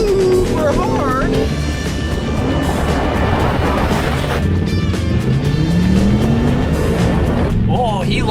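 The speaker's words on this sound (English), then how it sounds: "Oh, great launch of the i8 actually shifts super hard." A BMW i8 launches hard in a drag race, its rising engine and drivetrain whine climbing through a hard shift, loud and continuous beneath excited talk.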